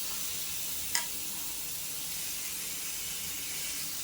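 Pieces of chicken drop into a pan of sautéed masala and fry with a soft, steady sizzle, a brief splatter near the start, and no talk.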